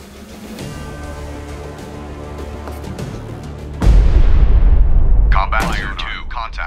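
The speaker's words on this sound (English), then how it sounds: "Ready depth charges. Shallow pattern." Depth charges fire from a destroyer in the naval game Destroyer: The U-Boat Hunter, a low rumble giving way to a loud, heavy booming blast that roars for seconds before fading, with radio-style voices calling out afterward.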